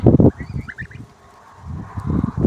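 Young geese let out a few short, soft honks and peeps close by, mixed with low rustling and scuffling noises.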